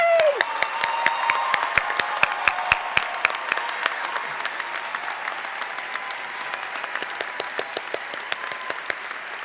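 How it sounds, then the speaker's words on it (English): A large audience applauds at a medical school commencement ceremony, a dense steady wash of clapping with scattered louder claps and a brief cheer at the start, continuing evenly for the whole stretch. "I think we should all give them one more round of applause."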